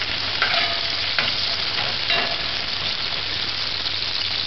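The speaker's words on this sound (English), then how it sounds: "Allow that to fry for about a minute, about 40 seconds." Frankfurters or sausage pieces fry and sizzle in a pan for baked beans, a steady loud hiss with a few soft stirring scrapes and no talk.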